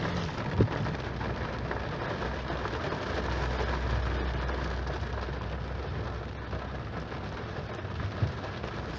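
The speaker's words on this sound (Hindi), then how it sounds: "सही बारिश है आज।" Rain falls in Dubai on a cold day, a dense, even hiss of drops on surfaces that continues throughout at moderate level with a few sharper taps.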